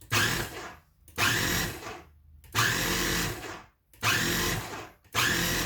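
A blender pulses pesto sauce ingredients in five short bursts, each a loud whirring roar of about a second, separated by near-silent gaps, close to the listener with no talking.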